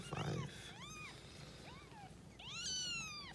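Several small rescued kittens meow repeatedly in high, rising-and-falling cries, overlapping one another at close range, with a louder cluster of mews near the end.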